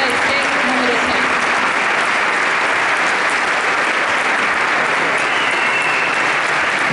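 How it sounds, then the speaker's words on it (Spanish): Parents, students and staff at a school sports program's year-end ceremony in Zapala give loud, continuous applause, a thick roar of many hands mixed with crowd murmur that holds steady throughout. "un fuerte aplauso para todos ustedes, papás, alumnos y la comunidad educativa del CEC número 6"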